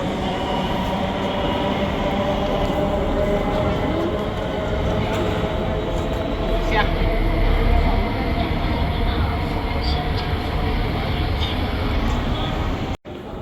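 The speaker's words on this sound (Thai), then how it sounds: "มันจะเป็นรถไฟอีกประเภทหนึ่ง" A train rumbles loudly and continuously nearby at a station in Dujiangyan, China, a steady roar of wheels on track with faint voices underneath.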